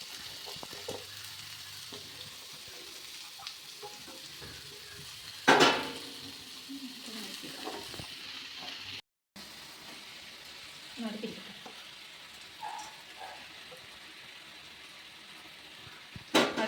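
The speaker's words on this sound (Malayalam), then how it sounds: "സവാള ഇട്ടൊന്ന് വഴറ്റിയിടും" Onions sautéing in a pan for Kerala kappa biriyani with tapioca and beef, a quiet steady sizzle broken by occasional clinks and scrapes of stirring.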